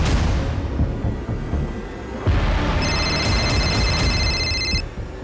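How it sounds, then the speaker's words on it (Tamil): Mobile phone ringtone going off nearby, a bright repeating electronic chime in a few short pulses over a noisy background, arriving after a sudden thump. "ரிங் அடிக்குது சார்."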